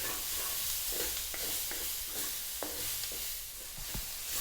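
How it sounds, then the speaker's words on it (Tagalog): Carrots stir-fry in a pan for beef fried rice, a steady sizzling hiss with occasional light scrapes and clicks of a utensil stirring through the vegetables. "Lulutuin ko lang siya siguro ng mga 1 minuto dahil matigas pa yung ating carrots"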